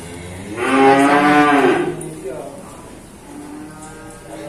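A loud, deep bull moo rises and holds for about a second, with fainter lowing and a distant voice afterward, at a cattle dealer's yard.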